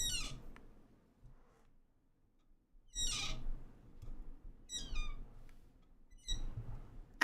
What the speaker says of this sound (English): It's actually like a seagull, dude.